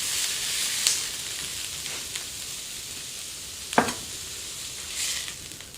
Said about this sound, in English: You can still hear the pan going, still hot.